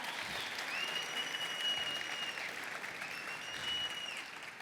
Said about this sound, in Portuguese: Você pode dar um aplauso a Jesus pela vida dele?